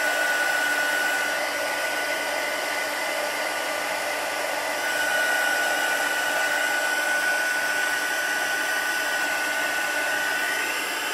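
Heat gun melting embossing powder on a handmade card, a steady close airy blower roar with a faint high whine running continuously and unbroken throughout.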